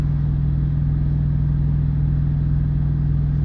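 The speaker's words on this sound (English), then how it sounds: "generator running. It's not too loud." A generator hums beside a parked truck on a Florida waterfront, a steady, loud, low engine drone with a constant pitch and no speech.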